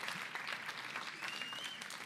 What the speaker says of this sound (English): can do the clapping again